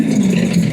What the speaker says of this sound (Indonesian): Itu suara Ninja